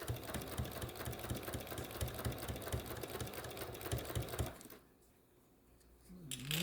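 Rapid rhythmic clatter of a sewing machine stitching log cabin quilt pieces, running steadily for several seconds and then stopping abruptly, followed by near-silence and a faint handling noise.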